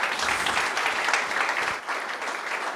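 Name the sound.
audience round of applause for panelists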